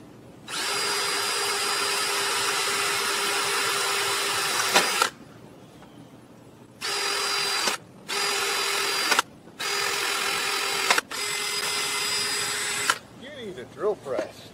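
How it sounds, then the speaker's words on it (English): A drill press bores into a metal part for a homemade propane burner, its motor whining loudly in one long run and then several shorter bursts separated by quiet pauses. "Drill press."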